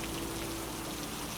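Steady rain falling and pattering on surfaces, a dense, even hiss with no pauses or voices.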